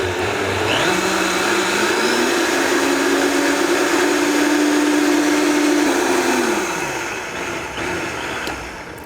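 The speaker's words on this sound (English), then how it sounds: "Now the Vitamix is a very good blender." A Vitamix blender purees cream of mushroom soup, its motor ramping up to a loud steady high-speed whine, holding, then winding down near the end, with no talking.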